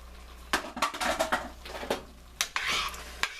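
Flour being stirred into a pot of steak and potato soup, with a string of scraping, clinking utensil strokes against the pot, close and fairly loud, alone without talk.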